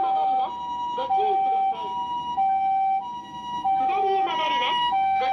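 Japanese ambulance siren alternating between two tones in a steady hi-lo pattern, fairly close and loud, with traffic rumble beneath and a faint voice at times.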